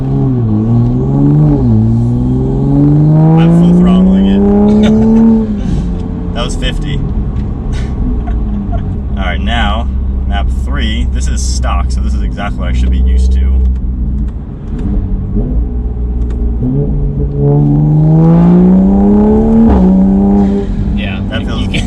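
Tuned Toyota A90 Supra on a low-power map of about 270 horsepower accelerates through rising gear pulls, heard as loud interior engine drone that climbs, drops at shifts and climbs again, with people talking over it.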